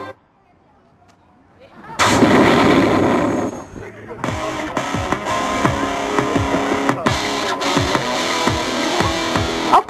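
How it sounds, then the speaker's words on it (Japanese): A bazooka firing effect at a live outdoor hero stage show at a local festival booms out loudly after a quiet start, followed by a sustained roar and a string of sharp, repeated gunfire-like bangs. "カンナンバズーカ発射"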